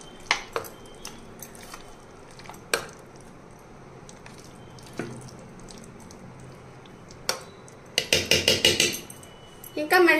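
A spoon stirs tomato pickle with turmeric in a pan, making sparse metallic clinks and soft squelches, then a quick cluster of scraping taps near the end, with a voice talking throughout.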